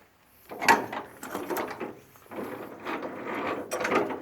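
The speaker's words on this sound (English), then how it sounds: "Now the tube's moving" Semi trailer landing gear leg tube being worked up and down by hand during a repair, giving a series of close metallic scraping, ratcheting clunks over about four seconds.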